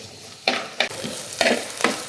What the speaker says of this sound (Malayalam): അപ്പോൾ നമ്മുടെ ഉള്ളിയെല്ലാം മൂത്ത് വന്നിട്ടുണ്ട്.